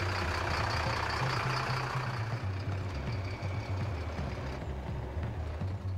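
Delivery trucks arriving at a hatchery with fertilized eggs, a low idling diesel rumble with faint repeating beeps, steady and moderately close.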